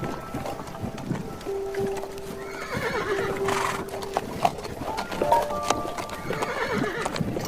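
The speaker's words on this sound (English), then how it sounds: "Horse noise." A horse neighs and whinnies with drawn-out cries while hooves clip-clop, the sounds mixed with a busy, splashy background and steady ambient noise throughout.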